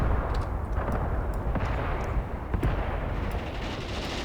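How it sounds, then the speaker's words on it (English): Mortar rounds land on enemy positions in the WWII tactics game Graviteam Tactics, sharp distant impacts popping irregularly over a continuous low rumble of battle. "My mortars are hitting the enemies hard."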